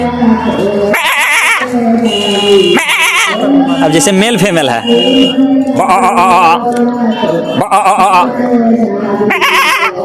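A person imitates goat bleating with a run of wavering, nasal bleats, loud and close, with brief spoken words between some of them.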